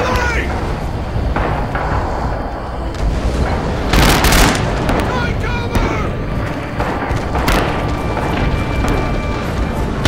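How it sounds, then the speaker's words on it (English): Artillery explosions in the World War II shooter Red Orchestra 2: Rising Storm boom loudly over continuous battlefield gunfire. One heavy blast lands mid-clip, with more crashes scattered around it, and voices shout under the din. "Artillery!"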